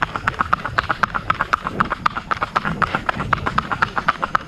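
A young horse trots with a steady, rapid clip-clop of hooves, close and clear, the rhythm holding evenly throughout with no talk over it.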